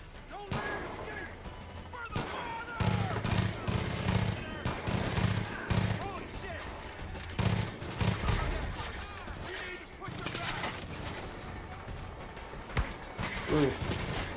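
Dense bursts of gunfire crack repeatedly around the player in the video game Far Cry 5, with rapid volleys and single shots near and loud, mixed with game effects.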